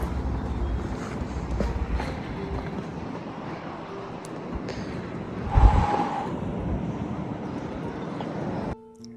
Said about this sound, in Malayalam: നല്ല കാറ്റുണ്ടായിരുന്നു കേട്ടോ മുകളിൽ.